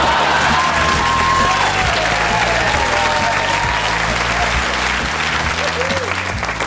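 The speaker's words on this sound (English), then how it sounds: "ladies clapping for that one" Studio audience applause mixed with some cheering during a comedy panel show, loud and sustained throughout, with a murmur of voices and laughter running underneath.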